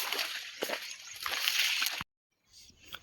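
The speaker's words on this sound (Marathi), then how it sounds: "तर मित्रांनो, हे बघा पाणी आलं इकडं खाली बघा" Irrigation water rushes and sloshes steadily into farm field furrows, close by, then cuts off briefly before a fainter trickling resumes.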